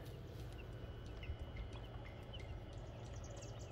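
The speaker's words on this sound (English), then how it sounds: "And here are the chickens." Newly hatched baby chicks give scattered, thin peeps through a steady low background hum, small and close but fairly quiet, with no talking.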